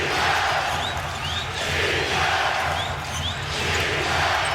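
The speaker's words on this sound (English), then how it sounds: "This crowd in a frenzy. Many on their feet here at the Staples Center." A basketball arena crowd at Staples Center roars and cheers in a frenzy during an NBA Finals Game 7 between the Lakers and Celtics, a loud, dense wall of voices that swells and dips, with sneaker squeaks rising above it.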